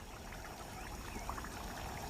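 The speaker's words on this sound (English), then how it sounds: "The water will slowly refill the dry channels and dusty lagoons." Okavango floodwaters flow steadily into dry channels and dusty lagoons on the Kalahari floodplains of Botswana, a soft, continuous trickle and gurgle with no voices.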